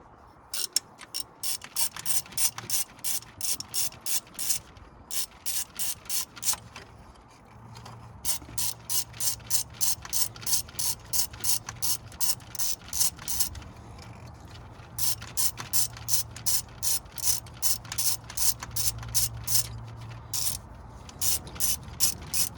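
A hand ratchet with a T40 bit loosens fuel injector clamps on a Peugeot Expert, Citroen Dispatch or Toyota ProAce van engine, giving rapid bursts of close, crisp clicking, repeated in steady runs with brief pauses between strokes.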